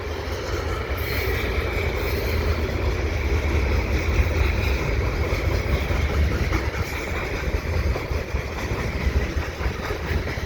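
A steady, heavy rumble of a CSX train with a vintage 1990s-painted locomotive rolling past nearby at the Dorval ramps, broad low-end roar with constant clatter, no voices.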